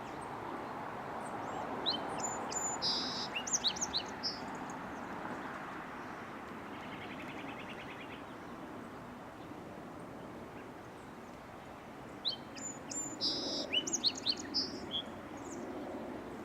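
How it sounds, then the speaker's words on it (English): Song sparrows call in a snowy winter park, short bright chirpy phrases coming in two clusters near the start and again near the end, over a soft steady background hush. "Song sparrows call all winter."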